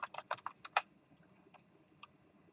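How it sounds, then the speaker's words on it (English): Quick bursts of keystrokes on a computer keyboard clatter close up at first, then thin out into a few scattered isolated taps against a quiet room background. "If I'm typing something here and I want to save it"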